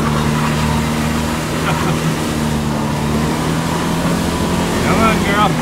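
A two-wheel-drive Ford F150 pickup engine drones loudly and steadily in rainy mud during a burnout, with wind buffeting the microphone throughout.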